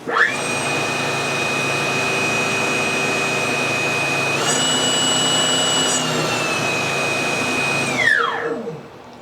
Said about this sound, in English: Then to start the blower, push this button.